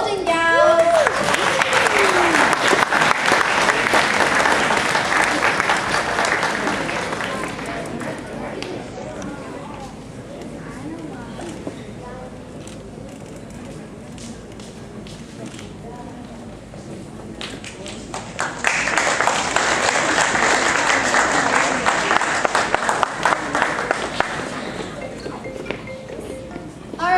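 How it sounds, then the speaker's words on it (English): An audience at the WRO 2018 robotics competition closing ceremony applauds a team called the Golden Gals, with loud sustained clapping that dips under an announcer's voice midway before swelling again near the end. "Let's give a big round of applause for the Golden Gals."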